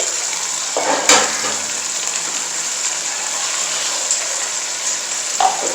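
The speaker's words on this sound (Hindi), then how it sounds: "गोश्त को आपने तकरीबन 7 से 8 मिनट के लिए ऐसे बिल्कुल तेज़ आंच पे पकाना है" Chicken for a curry cooking on a full high flame, with a loud, steady sizzle close by and a couple of sharp clinks or stirring knocks against the pot.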